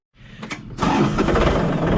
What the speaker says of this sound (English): Get the John Deere fired up.